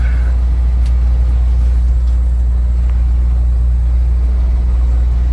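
A truck idles and creeps at about three miles an hour across a truck parking lot outside Little Rock, Arkansas, a steady low engine rumble that stays constant and close throughout, with no talk.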